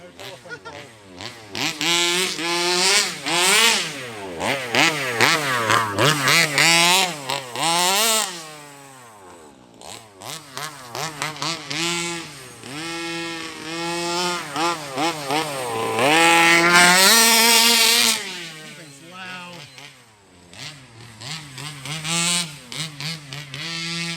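A gas-engined Baja 5B RC car revs hard and repeatedly, its buzzy two-stroke whine climbing and falling in pitch in loud, close bursts with brief drops to idle.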